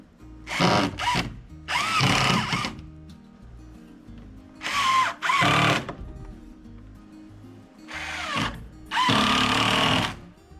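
A drill drives screws into fascia trim boards, with several close, loud whirring bursts of one to two seconds each, separated by short pauses.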